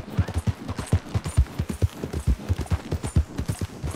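A horse in Red Dead Redemption trots with quick, even clip-clop hoofbeats, close and rhythmic throughout, with no other sounds standing out.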